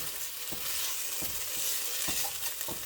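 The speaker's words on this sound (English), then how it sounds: "I got it turned off even though it's still making that sizzle" Stir-fry sizzling in a non-stick pan with the heat just switched off, a steady close hiss broken by a few soft scrapes of a silicone spatula, no voices.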